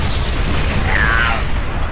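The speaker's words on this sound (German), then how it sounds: "Explosion ohne Ende." A sustained, loud explosion roars in the shooter Bulletstorm Remastered, a dense continuous rumble filling the whole moment with no pause.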